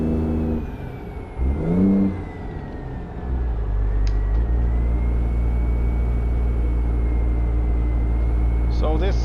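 Stretched Peterbilt 379 truck engine pulls under load, a loud steady low drone that rises after a brief voice at the start, with a rising whine over it and a few clicks near the end.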